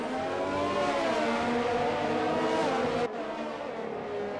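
Race cars in a video game roaring past in close succession at the Hungaroring, engine pitch sliding as they go by, loud and continuous, then a sudden cut to lower engine noise.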